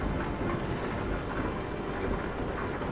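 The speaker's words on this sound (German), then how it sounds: "Oh, Gewitter!" Thunderstorm in the truck-driving game Euro Truck Simulator 2, a dense steady wash of heavy rain with low rumbling thunder underneath, loud and unbroken with no talk.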